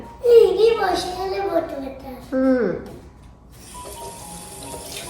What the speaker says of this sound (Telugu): మనము రోలు రోకల్ని రెండింటిని వాష్ చేసుకోవాలి